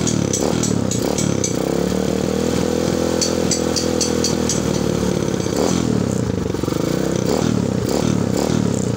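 A Kawasaki KLX150 motorcycle engine runs close by with an uneven, rough idle from a faulty carburetor, a steady loud drone with some irregular rattling throughout and no talk.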